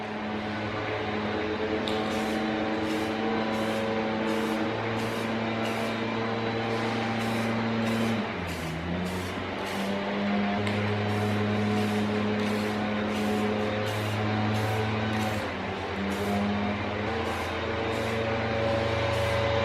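Spray painting sanded parts from a new Toyota Tacoma, a steady hiss of the spray gun running continuously with brief pauses, a constant low hum beneath, and no talk.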